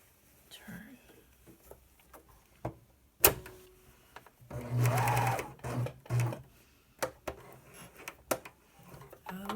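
A sewing machine stitches a line along a fabric edge in a close burst of rapid mechanical whirring, framed by quieter handling clicks and soft speech.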